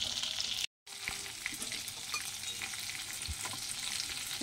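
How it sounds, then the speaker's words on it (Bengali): Long eggplant strips frying in oil tempered with nigella seeds and green chili give a steady, close, loud crackling sizzle with occasional stirring clatter, broken by one brief silent gap. "কালো জিরে কাঁচা লঙ্কা ফোড়ন দিয়ে এই লম্বা লম্বা করে বেগুন ভাজতে বসিয়েছি।"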